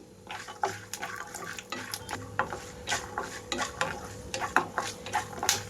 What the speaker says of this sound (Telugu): వీటితో పాటుగా పల్లీలు కూడా వేసి వేయించుకుంటున్నాను.